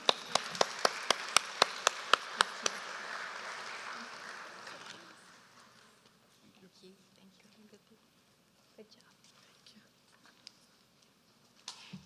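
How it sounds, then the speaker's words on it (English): An audience at a Bharatanatyam arangetram in Chicago claps for the incoming master of ceremonies, crisp loud rhythmic claps fading over several seconds, followed by quieter room noise and scattered soft sounds. "Give a big round of applause."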